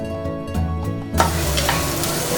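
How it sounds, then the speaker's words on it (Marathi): Onion fried in a pan while making wheat-flour noodles, a sudden loud sizzle that bursts in partway through over quiet background music and then holds steady and crackling. "कांदा थोडासा फ्राय करून घ्यायचा, खूप जास्त फ्राय करून घ्यायचं नाही, थोडंसं फ्राय करून घ्यायचं."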